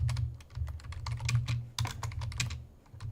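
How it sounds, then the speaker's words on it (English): Rapid typing on a computer keyboard: dense bursts of close, crisp key clicks with short pauses between runs, heard alone without voices. "Sorry, I'm typing it all in right now."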